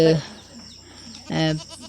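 Goat bleating on a goat farm where a goat has just given birth: two loud, harmonic bleats close by, one at the start and another about a second later, with quiet farmyard background between.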